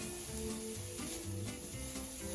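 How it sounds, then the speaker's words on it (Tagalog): Cold leftover rice stir-fried in a pan for pineapple fried rice gives a soft, steady sizzle, with faint scraping and stirring under a constant low hum. "ihahalo na po natin ang kaning lamig. Tapos, halo-haloin natin"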